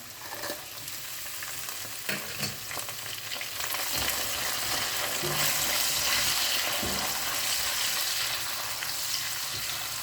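Sliced large onions and dried red chillies fry with cumin and fennel seeds in hot oil, giving a continuous close sizzle with occasional stirring scrapes that grows slightly louder midway.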